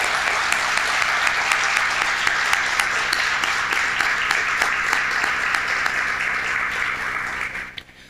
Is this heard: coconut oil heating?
no